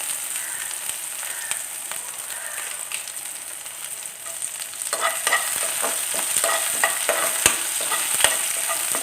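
Curry leaves dropped into hot oil in a pan while cooking an egg snack, sizzling and crackling as a spoon stirs, the frying growing busier and sharper halfway through with irregular scraping taps.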